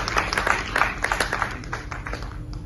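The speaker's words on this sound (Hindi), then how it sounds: "इन्हां नामां लई जोरदार तालियां" A theatre festival audience claps at a moderate level, with individual claps distinct within a loose, uneven pattering that gradually thins out over a few seconds.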